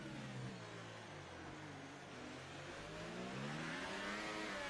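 A racing car engine in a racing video game revs and climbs through a double upshift, a faint buzzing engine note rising and dipping in pitch as the gears change.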